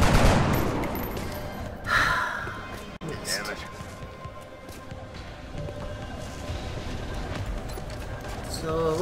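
Gunfire from a shot in the turn-based strategy game XCOM: Enemy Within, heard as a sharp burst of shots and an impact crack amid game sound effects and background music, with someone talking over parts of it.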